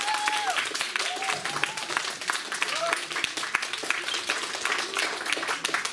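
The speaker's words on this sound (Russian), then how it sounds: "Все, аплодисменты." Applause from a school audience after a student parliament chairperson debate, a continuous crackle of many hands clapping with voices and a few whistle-like tones mixed in beneath.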